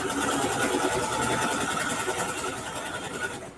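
A home sewing machine back stitches through a quilted ruffle backpack, a fast continuous mechanical whir with a rapid needle rhythm, close and steady, easing slightly toward the end.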